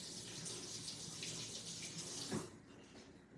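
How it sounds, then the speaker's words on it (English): Faucet water runs steadily as hands are rinsed under it at a kitchen sink, then the flow is cut and the sound drops away near the end. The sound is fairly quiet and continuous, with no voices. "All right, I'm gonna wash my hands now. Rinse these off."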